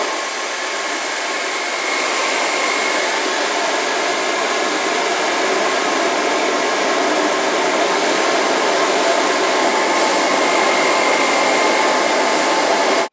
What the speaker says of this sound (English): And then I'm going to turn on my hairdryer. This is my GHD hairdryer.